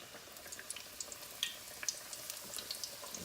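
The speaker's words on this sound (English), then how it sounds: "I'm gonna start frying some chicken" Chicken pieces frying in hot oil, a faint steady sizzle broken by small scattered crackles and pops, heard up close with no voices.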